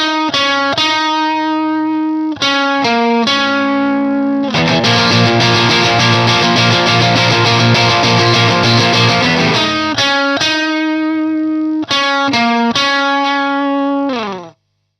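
Electric guitar playing a solo, with distorted, effects-laden tone: picked melodic notes, then a long dense sustained stretch, then more separated phrases, loud and alone.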